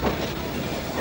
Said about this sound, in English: The train is now sealed. It will pass all frontiers.